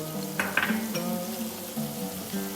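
Ginger garlic paste hits a pan of golden-brown onions and sizzles steadily, a close, moderate frying hiss with a few light spatters and no talking.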